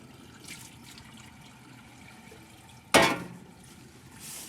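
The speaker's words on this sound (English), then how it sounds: "Rinse it out again." Water trickles faintly as a bedpan is rinsed out, then a sudden loud splash rings out and fades away, with no talking.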